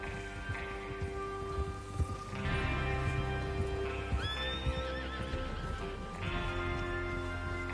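Horses in the video game Red Dead Redemption 2 whinny and neigh over the steady clip-clop of hooves, a busy outdoor mix with several animals close by.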